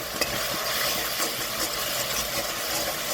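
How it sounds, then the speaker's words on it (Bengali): Chopped onion, garlic and ginger stir-fry in a pan, a steady close sizzle with scattered scraping and tapping from stirring, moderately loud and without talk. "নেড়ে চেড়ে মিশিয়ে নেব পেঁয়াজ রসুন আদা, ভালো করে নেড়ে চেড়ে ভেজে নেব"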